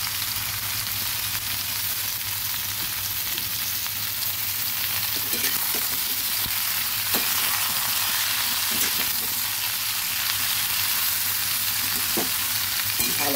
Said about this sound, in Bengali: ভালোভাবে নুন হলুদকে দিয়ে আলুর সঙ্গে মিশিয়ে নেড়ে দেবো।